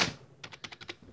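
Someone types quickly on a computer keyboard, a run of about seven close, light key clicks after a brief thump, heard alone in a quiet room.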